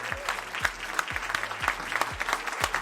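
An audience claps steadily at a classic-film screening at the Cannes festival, a dense, sustained round of applause from a crowd in a hall.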